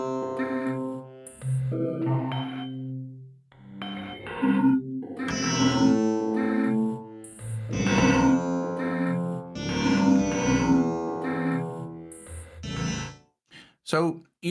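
A Korg iWAVESTATION synth patch with a gated reverb effect plays a series of bright, rhythmic chord stabs and tones that cut off abruptly, ending with short choppy bursts.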